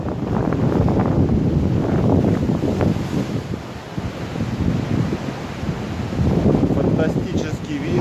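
Strong gusting wind roaring across the microphone on a cliffside stone trail in Novy Svet, Crimea, loud buffeting surges rising and easing throughout, with a voice speaking faintly underneath.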